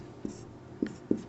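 Marker or chalk strokes on a board during a Hindi maths lesson on mensuration of a square, three short scratchy taps spaced irregularly over a quiet background, close and fairly soft.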